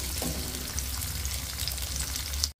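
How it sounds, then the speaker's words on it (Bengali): Capsicum frying in a pan while being stirred, a dense steady sizzle with a low hum underneath and a few faint scrapes, continuous and close until it cuts off abruptly. "ক্যাপসিকামগুলোকে নেড়ে চেড়ে একটু নরম নরম করে ভেজে নেব।"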